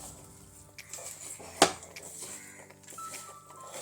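Mango pickle pieces being stirred in a pot, heard as one sharp metallic clink of the spoon against the pot amid faint, quiet scraping, close by.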